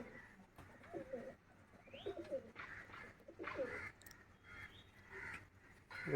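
A male pigeon coos softly in repeated low, throaty phrases, with occasional faint chirps in the background; close and fairly quiet.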